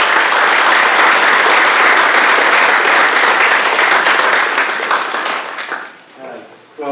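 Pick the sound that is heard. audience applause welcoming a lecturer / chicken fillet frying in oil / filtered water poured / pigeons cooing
audience applause welcoming a lecturer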